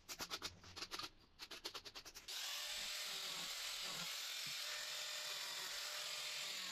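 A power drill fitted with a spiral wire brush scrubs a boiler lid, first in short pulsing bursts, then in a steady, loud, continuous grinding whir.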